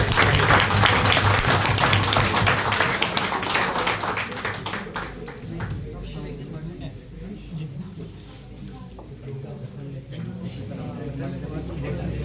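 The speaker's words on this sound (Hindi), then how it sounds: "एक बार जोरदार तालियों से स्वागत करें।" Loud, dense applause from a large audience at a college finale event, strongest at first and easing into a steady background wash, with talk and other noise mixed in.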